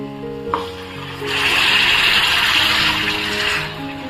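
Water poured into frying masala for a bangda (mackerel) fish curry bursts into a loud, steady hiss and sizzle that holds for a few seconds after a brief clink, over a faint tonal background.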